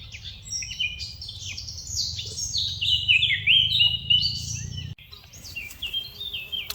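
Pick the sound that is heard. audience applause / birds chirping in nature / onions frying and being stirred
birds chirping in nature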